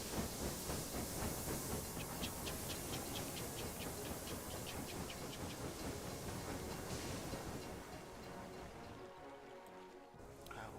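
A steam locomotive in the railway management game Railway Empire hisses steadily, with faint rhythmic chuffing and clanking running through a dense, continuous rush that eases toward the end.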